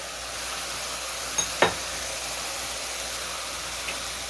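Fried potatoes going into a pan of sizzling masala for aloo bhindi sabzi: a steady close hiss of frying oil throughout, with a brief clatter and splash as the potatoes drop in, and no talking.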